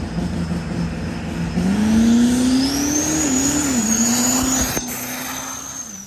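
A diesel truck, numbered 590, drag racing down the track at a diesel event roars with a rising, revving engine note that climbs and shifts. It is loud and steady over crowd and track noise.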